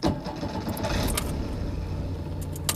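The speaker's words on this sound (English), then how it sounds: "Slightly clattery starter motor, something very Eastern Bloc about that." Skoda Favorit starting up, a brief clattery crank from the starter motor catching into a low engine rumble, with faint key jingles at the start.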